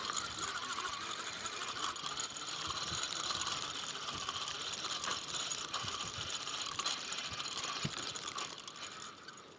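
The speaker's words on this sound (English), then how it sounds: "Time to reel in, load up again, and get it right back out there." A fishing reel is wound in after float fishing for carp in Thailand, giving a close, rapid ratcheting click and whir that runs almost without a break.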